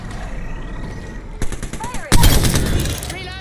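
Gunfire in the video game Apex Legends on the Broken Moon map, with scattered shots and then a loud, rapid automatic burst close by, under occasional talk.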